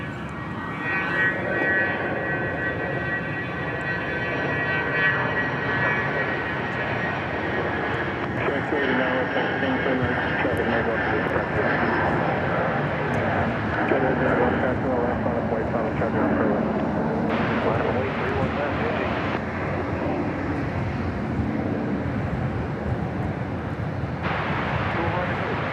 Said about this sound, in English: Another biz jet is on its way out.